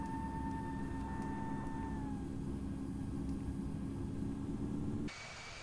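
Jet engine roar from an airliner on its takeoff roll in the Infinite Flight simulator, a steady loud broadband rumble with a sustained whine that drops in pitch, then cuts to a quieter, thinner hum near the end; no talking.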